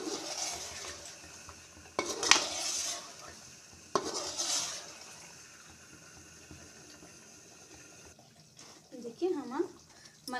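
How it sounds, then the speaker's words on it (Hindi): A spoon stirs fresh cream into butter chicken curry in a pan, scraping and clinking against the metal amid a soft sizzle, with a few louder knocks and a voice talking briefly. "इसको अच्छे से इसमें मिक्स कर देंगे।"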